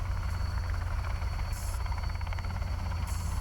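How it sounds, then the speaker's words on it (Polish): Helicopter in the video game Sons of the Forest, a loud continuous rotor drone with rhythmic chopping, steady and close throughout, with no talk over it. "A cię kurwa nie słyszę przez ten helikopter."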